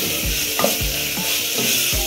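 Tomatoes stir-fried in a pan with salt, turmeric, cumin and chili powder for a chicken rajma curry, a steady sizzle broken by regular scraping stirs of a spoon about every half second, close and with no talk.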